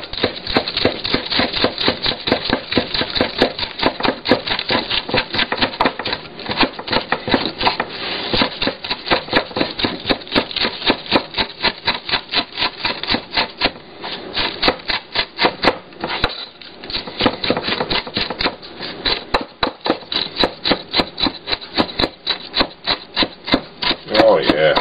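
Knife chopping bacon on a cutting board in a fast, steady run of sharp wooden knocks that continues densely throughout with no talking.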